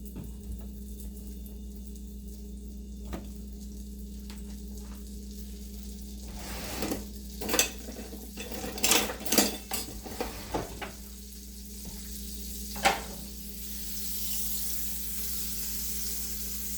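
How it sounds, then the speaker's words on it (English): Real butter sizzles in a frying pan during an outdoor cook of giant puffball mushroom. A steady low fry hiss runs throughout, broken midway by a cluster of sharp clanks and scraping pan knocks. "Now I got real butter, not margarine. Gonna stick it in the pan."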